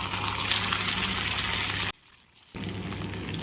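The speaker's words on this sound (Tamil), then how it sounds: "சிம்மில் வச்சுட்டு பன்னீரை ஒன்றா போட்டுருங்க." Paneer pieces frying in hot oil in a kadai, a dense close sizzle that breaks off briefly and then resumes as the pieces settle into the oil.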